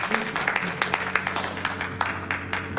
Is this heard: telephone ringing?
no